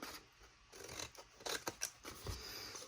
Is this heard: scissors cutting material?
yes